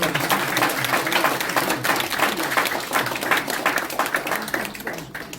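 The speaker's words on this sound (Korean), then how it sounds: "모두 박수로 맞이하겠습니다." Applause at a press conference marking a political party merger signing, a roomful of people clapping in a dense, continuous patter that holds steady and then starts to thin out toward the end.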